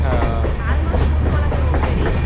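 A passenger train runs along the Dharmasthala railway line in Karnataka, giving a loud, steady rumble of wheels and carriages with a low drone throughout, heard up close from on board.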